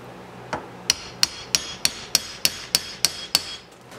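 Nine sharp metallic hammer strikes on a door hinge pin of a 1971 Chevy C10 truck ring out in a steady rhythm, each with a bright clang, after one lighter tap.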